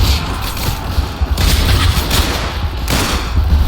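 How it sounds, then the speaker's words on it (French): Shotgun blasts and gunfire crack through a World War One trench battle in a Roblox game, loud and continuous with heavy low booms and dense overlapping shots, a voice briefly audible amid the din. "fusil à pompe dans la tranchée comme ça"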